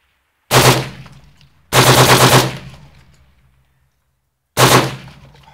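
A 6.8 CT rifle fires three loud, close bursts at distant steel, each a rapid string of shots with a ringing decay, separated by pauses of silence.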